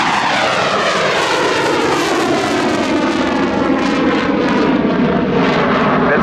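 A Saab jet fighter at an airshow roars past loudly and close, its broad engine noise swelling and sweeping in pitch with a rushing, continuous drone over the whole stretch.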